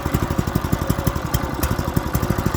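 A Honda GX clone petrol engine runs steadily after starting, a loud close single-cylinder chug with a rapid, even firing rhythm and a mechanical clatter on top.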